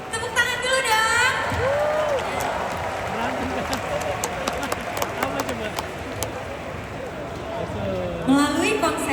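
Applause and cheering from a concert audience at an anniversary show, a dense continuous crowd roar with clapping, loud and close, with people talking over it at the start and end.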